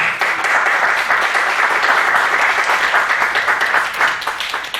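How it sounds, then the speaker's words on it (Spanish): An audience at a formal commemoration ceremony applauds steadily, a dense, loud wash of many hands clapping that holds for several seconds and fades slightly near the end. "la maestra Julieta Ávila Hernández, a quien pido que le ofrezcamos un fuerte aplauso."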